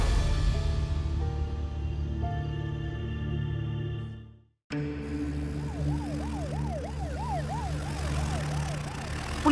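A police car siren wails loud and steady, breaks off in a short silence, then returns with a rising and falling yelp over an engine rumble, with no talking.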